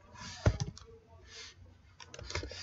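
Typing on a computer keyboard while entering a sum expression in GIS mapping software: scattered soft clicks in two short clusters, close and fairly quiet.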